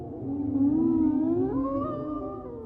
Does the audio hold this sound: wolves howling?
yes